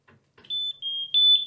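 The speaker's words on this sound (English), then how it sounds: "smoke detector, which is here. Every German apartment has to have it." Smoke detector in a German student apartment being tested, giving a short high-pitched electronic beep that pulses a few times at close range after two light taps.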